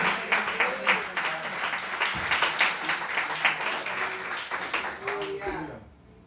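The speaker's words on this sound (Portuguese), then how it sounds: "Dê uma salva de palmas ao Senhor." A church congregation claps together during a worship service, a dense steady wash of applause while a voice speaks and calls out over it, then the clapping tapers off.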